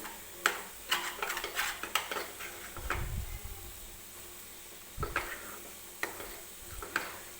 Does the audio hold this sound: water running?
no